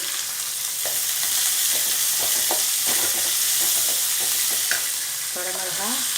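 Chopped onions frying in a pan for kara kuzhi paniyaram, a loud, dense, continuous sizzle close up, with repeated spoon stirring and scraping, with no talk.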